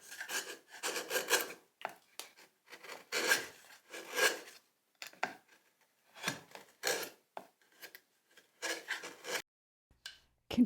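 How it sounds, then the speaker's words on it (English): A hand tool shaves a wooden tenon for a Shaker-style door frame in a series of short, crisp rasping strokes, close and distinct, arriving in irregular bursts separated by brief pauses. "Tom carefully shaves off a bit of the tenon that was just a wee bit too"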